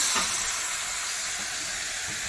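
Chicken curry stirred in a frying pan gives a steady, close sizzling hiss throughout, with a few soft scrapes of the spoon against the pan.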